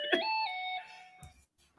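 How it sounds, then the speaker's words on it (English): A phone notification chime plays a short rising two-tone melody, bright and clear, followed by a couple of faint soft knocks and near silence. "Look, she got the notification again."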